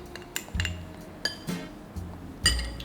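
Flour and other dry ingredients for martabak manis batter being stirred in a bowl, with a few light clinks of utensil against the bowl and soft scraping strokes, close and fairly quiet.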